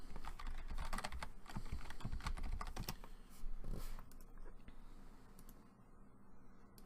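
Fast, steady typing on a computer keyboard, a dense run of light key clicks close by that thins out and stops toward the end, with no speech.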